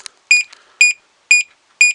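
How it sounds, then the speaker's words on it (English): A vintage Sears Traditions alarm clock, model 74114B, sounds its alarm as a loud, close electronic beep pattern, short bursts repeating about twice a second with silent gaps between them. "There's your alarm"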